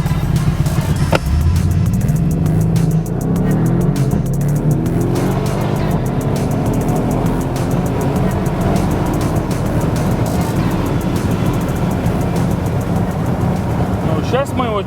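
A Mercedes E63 AMG S-Model drag racing a BMW M5, heard as a loud, constant engine roar from inside the car with people talking over it.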